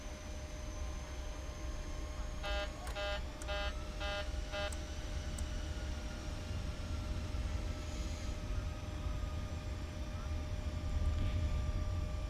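Steady engine drone and broadband rush of an airliner taxiing off the runway in the Prepar3D flight simulator, with a short run of rapid electronic beeps partway through and a faint tone later.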